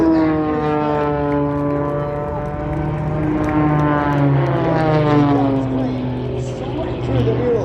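An aerobatic propeller plane flies loops at the Brisbane, Australia airshow, its engine a loud, sustained drone that rises and falls in pitch as it maneuvers, with an announcer's voice over it.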